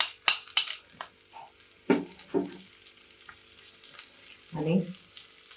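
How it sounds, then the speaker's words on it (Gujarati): Green garlic and green chillies sautéing in a hot pan, a steady sizzle broken by sharp spatula scrapes and clinks, with a brief voice in the background. "1 મિનિટ માટે ખાલી સાંતળી દઈશું એને."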